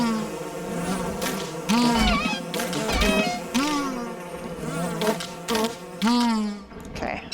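Bees buzz steadily around a beehive in Don't Starve Together, a continuous insect drone layered with tonal game sounds and no talking.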